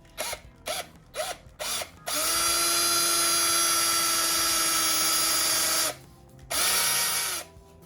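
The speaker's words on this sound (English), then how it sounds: "So I'm gonna just go ahead and drill it out like I did the other side" Power drill drills out a Lexus Toyota A650E automatic transmission seal: several quick trigger bursts, then a long steady high whine, a pause and one more sustained run, close and loud with no talk.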